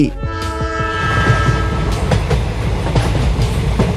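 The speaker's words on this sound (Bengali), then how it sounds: "সজোরে অপর দিক থেকে আরো একটি ট্রেন চলে আসে" A train speeds through a railway crossing, its horn blaring in long sustained blasts up front before the loud, continuous rumble and rhythmic clatter of the passing cars take over.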